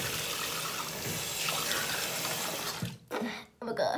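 Steady rush of tap water running into a sink during face washing at bedtime, continuous and close for most of the clip before cutting off briefly near the end.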